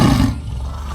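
A tiger's roar, loud and close, bursts out at full force and then tails off into a rough, rumbling growl over about a second.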